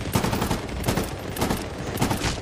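Rapid bursts of gunfire in Medal of Honor: Warfighter, loud repeated shots in uneven clusters filling the whole stretch with no talk.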